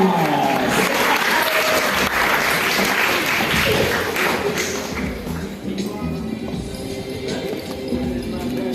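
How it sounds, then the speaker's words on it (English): A large graduation crowd at a secondary school applauds the teachers, producing a thick, continuous roar of clapping that holds steady throughout with some cheering and shuffling. "Give all the teachers a big round of applause."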